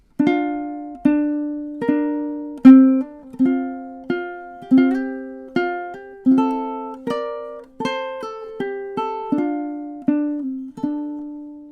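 High G ukulele picking the closing measures of the Celtic tune The Parting Glass, a steady sequence of clear plucked single notes with a few doubled tones, each ringing and fading, close and unaccompanied.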